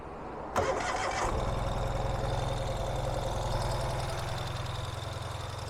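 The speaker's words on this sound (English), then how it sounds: "all we have to do is make sure we're in neutral, which we are, and hit the starter" A new 2023 Ural Gear Up Hornet sidecar motorcycle engine cranks on the starter, catches after a brief whir, and settles into a steady, throbbing idle close by, with no talking over it.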